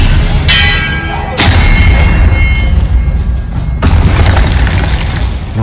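Expelliarmus spell fired in the Hogwarts Legacy video game, a loud booming magical blast with sharp cracking onsets, followed by a second heavy impact a few seconds later over a dense, rumbling game soundscape.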